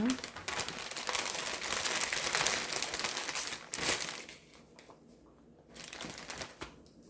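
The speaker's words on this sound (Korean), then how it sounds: "썰은 생강을 지퍼백에 넣어주세요." Sliced fresh ginger being put into a plastic zipper bag, producing steady close crinkling and rustling of the plastic that eases off toward the end.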